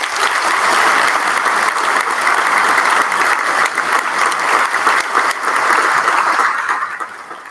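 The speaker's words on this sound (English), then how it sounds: "Please join me in giving these heroes a round of applause." Sustained audience applause at a university convocation ceremony, steady and dense throughout before tapering slightly at the end, with no voices over it.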